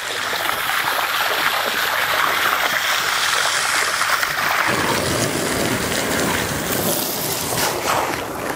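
A pump pushes plain water through an aquaponics biofloc fish tank, giving a steady rushing, churning wash that deepens and grows fuller partway through, loud and continuous with no talking.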